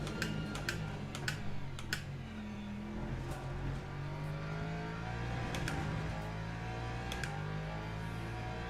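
Computer keyboard keys clatter in bursts of quick taps while a racing-game car engine hums steadily underneath. The keystrokes sound close and crisp.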